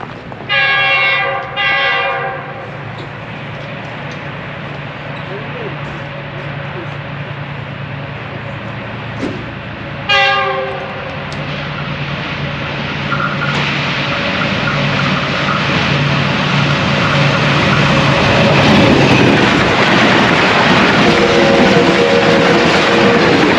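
Pakistan Railways 102 Down passenger train with GU20 4569 locomotive leading, on a single line, sounds two long horn blasts, a third blast about ten seconds later, then a steadily building rumble of wheels and passing coaches.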